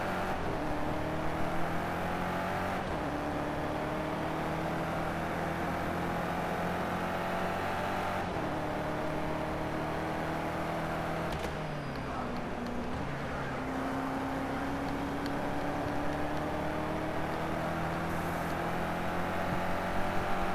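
Droning V8-style car engine in a racing video game, steady tones that step up in pitch through gear changes with a brief dip midway, constant and fairly loud with no one talking.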